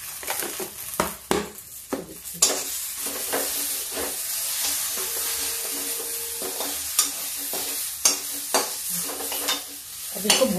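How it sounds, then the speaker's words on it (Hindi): Food for a Shivratri fasting meal is stir-fried in a pan: a constant close sizzle broken by repeated spatula scrapes and light metallic clinks, with no talking. "अब इसको भून लेते हैं"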